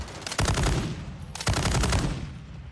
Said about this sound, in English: I'm trying to get some kills out of the weapon, but there's just a lot of recoil.